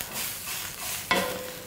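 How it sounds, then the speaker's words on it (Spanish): Cabbage (berza) sautéing in a pan with a little olive oil, a steady soft sizzle with stirring scrapes and a brief louder clatter of the utensil against the pan near the end. "Salteamos nuevamente acá."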